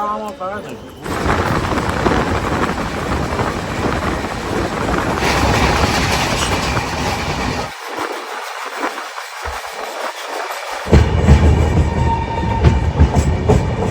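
A passenger train from Ayodhya rumbles along the rails with a steady roar and rattle, wind buffeting the microphone, and a brief quieter stretch midway.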